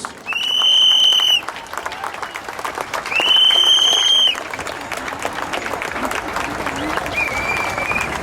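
A crowd claps loudly and steadily, with two bursts of shrill whistling rising above the applause before it continues at a lower level.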